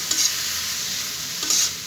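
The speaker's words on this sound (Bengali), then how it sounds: "এটা আমি ভেজে নিচ্ছি" A mustard-flower mixture for a mash fries steadily in a pan, giving a continuous bright sizzle with two brief louder hisses where it is stirred. No one speaks.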